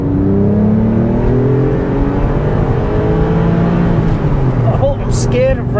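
A Porsche 996 engine is revved in a car, its note rising and falling in drawn-out sweeps, loud and close, with a voice cutting in near the end.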